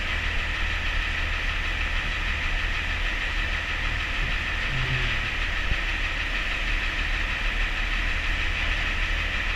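A combine harvester engine runs at a steady, loud idle-like drone up close while a soybean head is mounted to it, with a brief faint knock midway and no talking.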